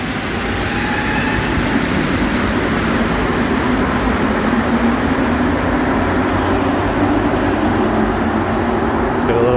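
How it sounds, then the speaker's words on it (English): A Montreal Metro train pulling out of Viau station on the Green Line, a loud, steady rumble and rolling roar that fills the whole stretch, with a faint rising whine. "Get a little shot there of that train departing first."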